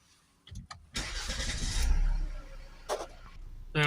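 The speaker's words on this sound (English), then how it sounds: "now we're going to start the vehicle up." A Volvo V70 2.0 five-cylinder diesel cranks over with a few short clicks, then catches and roars up into a loud start before settling toward idle, with another rev near the end.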